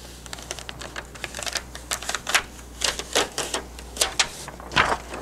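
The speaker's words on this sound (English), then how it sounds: "then we can peel our carrier back" A heat transfer carrier sheet being peeled back from a printed tote bag gives a series of crisp, crackling ticks and small rustling bursts, coming in irregular clusters and fairly close.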